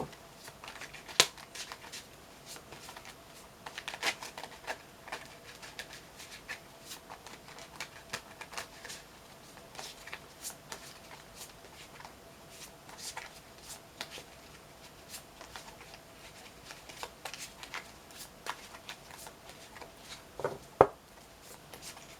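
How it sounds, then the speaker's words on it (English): Soft, continuous papery riffling of tarot cards being shuffled, close and quiet, with occasional sharper taps against a faint background hiss. "always shuffle them as long as I feel the need, and then when it feels right, I pull them"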